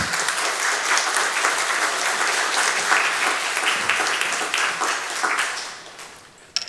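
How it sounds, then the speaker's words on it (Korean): Steady applause from a church congregation filling the room, sustained for several seconds before fading out near the end. "나오실 때 박수로 환영해 주시기를 바랍니다"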